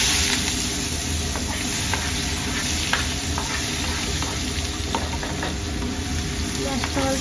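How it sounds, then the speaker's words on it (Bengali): Chopped onions hit hot oil in a pan for a small-fish curry and sizzle loudly and steadily, with a few brief stirring scrapes. The sizzle runs the whole time without pause. "এখন আমি পেঁয়াজ ছাড়বো।"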